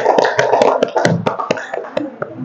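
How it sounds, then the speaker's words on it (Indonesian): A class of people applauds a student group in a classroom, a dense, steady burst of many hands clapping that carries on for a couple of seconds at close range. "Kita berikan aplaus kepada kelompok"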